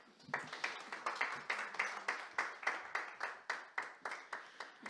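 An audience applauds after a presentation at an academic policy conference. The clapping is steady and rhythmic, with roughly three claps per second, and stays fairly quiet, as if heard from a distance in a hall.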